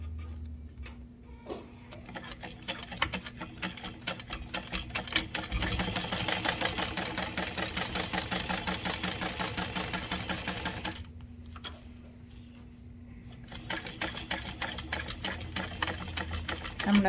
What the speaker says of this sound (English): the outside and top stitch from this side and start at that bottom folded corner